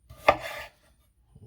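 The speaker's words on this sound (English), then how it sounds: "So we're just going to cut these in strips, just like this." A single knife stroke slices through vegetables into strips for a sheet pan pizza, one sharp close chop on a board followed by a brief scraping rub, then near silence.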